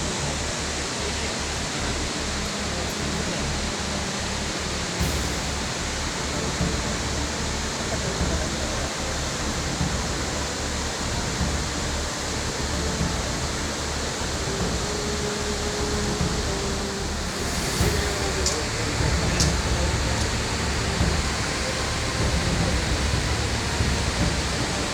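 Flash-flood water from a rain-swollen forest stream rushes around Amanalingeswarar temple at Thirumoorthy hills, a steady, dense roar of churning flow that stays loud and unbroken throughout.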